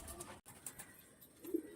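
A pigeon at a bird market gives a soft, low coo near the end of a short, faint stretch of room noise, close but quiet.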